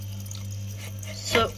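A Samsung top-load washing machine hums steadily as water begins filling the drum, ending in a brief rush of splashing, with a voice speaking faintly nearby.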